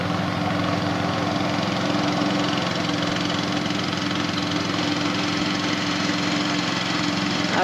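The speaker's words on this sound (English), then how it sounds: "Our brand new lawnmower," A brand new lawnmower runs while cutting dry, straw-like grass, its engine a steady close drone with a knocking rhythm throughout.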